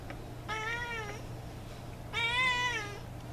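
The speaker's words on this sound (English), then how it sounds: "She's a very noisy kitty." A cat meows twice, two drawn-out calls separated by a short pause, close by over a low steady hum.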